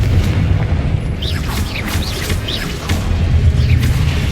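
A Confringo spell blast in Hogwarts Legacy booms loudly, with repeated heavy explosive bursts and crackling impacts layered over a rumbling low end.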